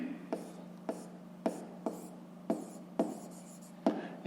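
A pen or pencil writes out a fifth-grade math solution on paper, close and quiet, with a series of short scratching strokes separated by brief pauses over a low steady hum.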